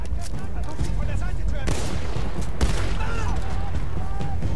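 Shotgun blasts in a Battlefield 1 match, loud and close within a constant roar of battle, with booming shots and clatter as a player talks over the action.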